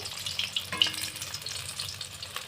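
Rohu fish pieces coated in flour and cornflour fry in hot oil, giving a steady close sizzle with a few brighter spits and pops throughout.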